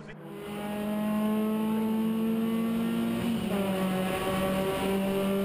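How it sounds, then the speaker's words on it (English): Ford Fiesta race cars at a championship meeting at Rockingham, with a loud engine drone rising and settling into a sustained whine as the cars pass close by, a pitch shift midway, and no talking. "We've seen David Elsley take the lead on the place where the cars are coming up to now"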